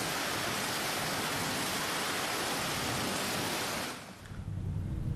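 Heavy rainstorm pouring down over a residential neighbourhood in Bandung, Indonesia: a loud, dense, steady roar of rain that fills the scene, then drops sharply toward the end to a softer, duller wash.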